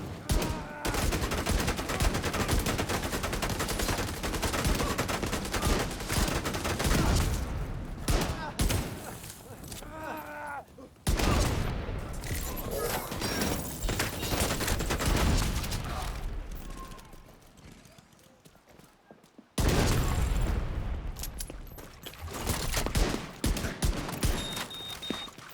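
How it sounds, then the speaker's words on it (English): Rapid bursts of player gunfire in The Division 2, loud and sustained across most of the stretch with brief lulls, layered with other battle noise. "it's like I'm shooting a soft air gun"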